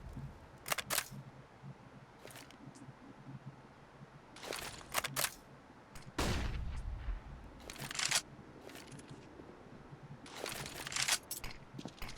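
Rifle fire sprayed across the Vertigo map in a Counter-Strike match, with scattered bursts of sharp shots spread through the stretch, some clustered and rapid, others isolated, under a low game-ambience hum.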